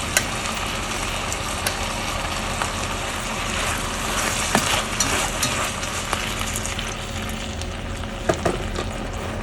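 Dried scallops sizzle in a hot, nearly dry clay pot while a seafood tofu stew is being made: a steady, close crackling fry with small pops throughout and no talking.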